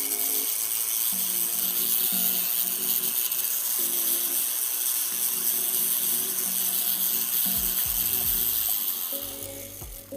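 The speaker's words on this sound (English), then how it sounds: "what I'm doing right now is I'm just smoothing them out." Steady hand-filing of small jewelry pieces, a continuous close rasping rub with an even rhythm that carries on unbroken before easing off at the end.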